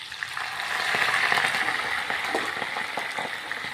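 Curry leaves and hibiscus leaves cooking in oil for a homemade hair-loss remedy make a soft, close sizzle with small crackles and pops, fairly quiet and steady.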